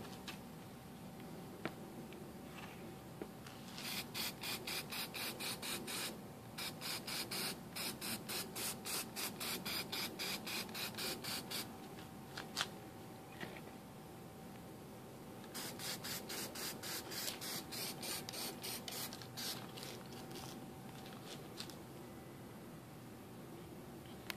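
Aerosol spray paint hissing onto motorcycle parts for a 2011–2014 ZX10R, two long bursts of rapid sputtering spray with rattling pulses, close and steady against a quiet background hiss.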